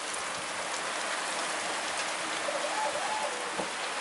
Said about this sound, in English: And a hell of a lot of rain.